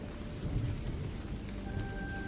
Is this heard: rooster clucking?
no